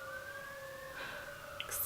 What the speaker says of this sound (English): excuse me, sirens.